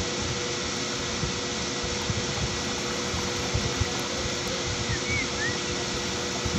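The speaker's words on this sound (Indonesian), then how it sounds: "ini suhu udah 40 derajat, nyala kipas jadi kencang." An electric fan with four-wire wiring, switched by a temperature sensor, runs at high speed, giving a steady, dense whirring hum that stays even throughout with no pauses.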